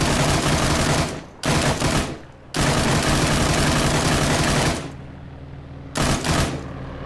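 A PKP Pecheneg machine gun in ARMA 3 rips out long, loud, close automatic bursts, separated by short pauses and a quieter stretch of echoing tail, with no talking.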